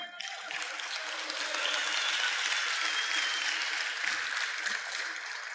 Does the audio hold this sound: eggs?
no